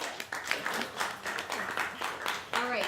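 An audience claps under a mix of voices, the applause a continuous patter of many hands at moderate distance that swells slightly near the end.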